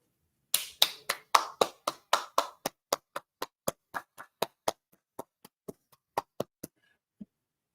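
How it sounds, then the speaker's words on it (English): Slow, deliberate hand claps ring out one at a time, about two dozen crisp strikes at a steady beat that gradually softens and spaces out before a final lone clap; no talking. "Round of applause, man."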